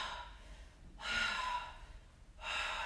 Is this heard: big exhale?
yes